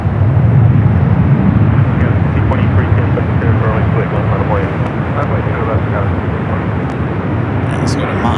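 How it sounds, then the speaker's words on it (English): A Breeze Airways Airbus A220-300 arriving at San Francisco from Cincinnati produces a continuous loud engine rumble and roar, with a voice talking over the top the whole time. "Airbus A220-300 coming up from Northern Kentucky, Cincinnati"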